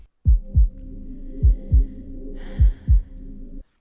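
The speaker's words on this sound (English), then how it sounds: "That's a heartbeat." Deep, heavy heartbeat thumps open a song, three paired lub-dub beats in a steady slow rhythm over a low humming drone, with no voices.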